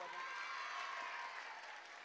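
Faint audience clapping at a comedy stage show, a soft, diffuse patter of many hands heard from a distance that thins slightly toward the end.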